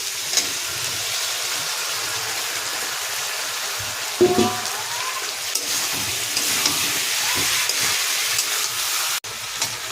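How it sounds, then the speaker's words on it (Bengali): Pumpkin and potato fry in a pan as vegetable stalks and shrimp are added, a steady hissing sizzle broken by a clattering thump partway through, with a sharp cut near the end. "এবার ডাঁটা আর চিংড়ি মাছটা দিয়ে দেবো।"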